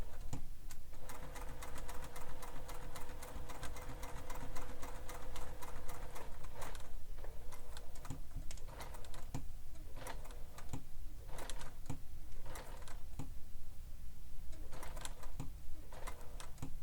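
Domestic sewing machine top stitching along the curve of a Bella bag, a steady rapid mechanical stitching rattle running close and continuous with brief pauses and clicks at pivots, no talking.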